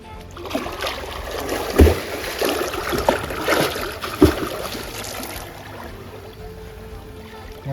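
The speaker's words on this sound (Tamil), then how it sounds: "டேம்லேருந்து வர தண்ணி தானே இது?" Water from a dam rushes and splashes steadily nearby at Ulakkai Aruvi, Kanyakumari, with a few louder sloshes and bursts, as if someone wades through a flowing stream over slippery moss.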